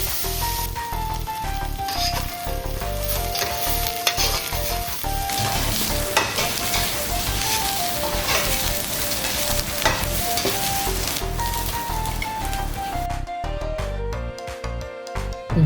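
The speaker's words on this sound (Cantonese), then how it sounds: "見到微微冒煙就落油，加入紅蔥頭，炒至金黃色備用" Shallots stir-frying in oil in a preheated iron wok over medium-low heat give a steady, even sizzle that runs without a break beneath a layer of music, with no one talking.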